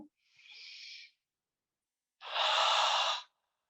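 Two audible breaths during a guided yoga breathing exercise: a soft, airy inhale, then a louder, fuller exhale after a short pause, both close and clear with no talking.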